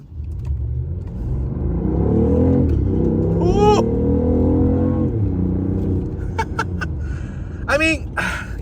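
A BMW i8 supercar accelerating hard in full electric battery mode gives a loud, steady rumbling whir that holds for several seconds, with excited voices and laughter on top.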